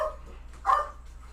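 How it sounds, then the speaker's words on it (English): Pet ducks give a single short, harsh bark-like quack, fairly close and loud against a quiet indoor background with a low hum. "My ducks are barking."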